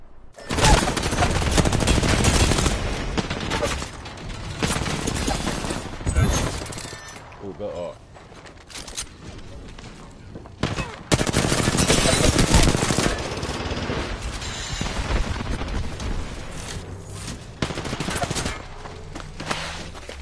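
Rapid gunfire crackles through an Apex Legends firefight in repeated loud bursts and sustained volleys, broken by short lulls, with players talking over the shooting.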